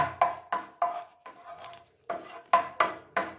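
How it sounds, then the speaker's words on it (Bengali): Green cardamom pods stirred in a hot pan over a medium flame, a run of sharp scraping and tapping strokes of a spoon against the pan, about eight in a loose rhythm, close and clear. "একটু ছোট এলাচটা দিয়ে নাড়াচাড়া করে নেব।"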